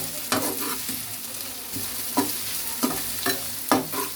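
Chicken pieces coated in ginger garlic paste fry in a hot pan, a steady sizzle broken every second or so by sharp scraping stirs of a spatula against the pan.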